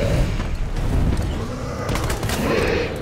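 Rapid gunfire from a Resident Evil 2 video game firefight, a dense, continuous volley of close shots with booming impacts filling the whole stretch, loud and sustained without pause.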